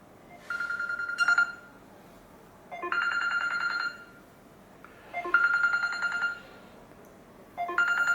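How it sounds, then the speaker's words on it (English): Incoming phone call ringtone on an Android 10 car head unit upgrade for a BMW 1 Series, a repeating electronic melodic ring in four phrases separated by short pauses, clear and close with no talk. "you can have a phone call, you can answer or hang up"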